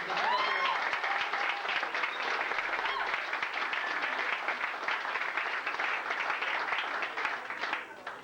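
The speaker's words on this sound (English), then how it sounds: "Have a big round of applause for the cast" Sustained audience applause for a cast at a staged stand-up comedy reading, dense and steady for several seconds with a few faint voices mixed in, tapering off at the very end.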